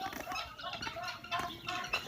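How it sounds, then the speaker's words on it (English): Guinea fowl and chickens on a farm in Buchanan County, clucking and chattering at moderate distance in a continuous, overlapping flock chorus with faint human voices mixed in. "you can see these are the guineas. Then we got 9 chickens around here too."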